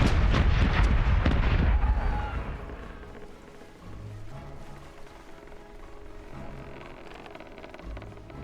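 Ship cannons firing a broadside in the pirate naval game Corsairs Legacy, a dense rolling barrage of booming blasts for two seconds, then fading into low rumble and distant thuds.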